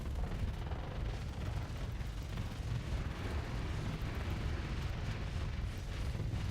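Reaper torpedo launchers on a Legion-class ship fire in the Starsector space combat game, making a dense, continuous low rumble of overlapping blasts and booms that stays loud for the whole stretch.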